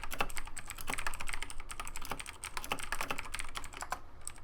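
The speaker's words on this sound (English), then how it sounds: "I'll just go ahead and apologize in advance for you guys being able to hear the keyboard so much." Rapid, continuous clacking of computer keyboard keys, close to the mic and fairly loud, during a late-night GTA V FiveM roleplay gaming session, with no talking.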